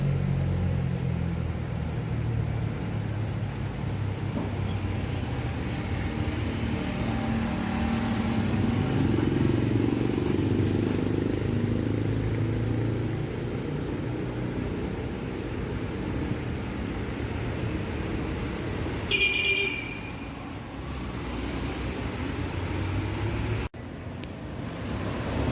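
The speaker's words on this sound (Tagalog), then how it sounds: "Ito yung bus na sasakyan na bumabiyahe sa city" A city bus in Iloilo City rumbles steadily along the road, its low engine drone loud and continuous, with a brief higher clatter near the end.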